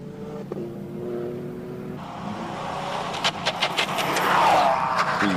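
A Lotus Elise race car with a Honda six-cylinder engine accelerates uphill at the Simola hillclimb. A thin tone gives way to a rising engine note that grows louder, with sharp pops and crackles near the peak.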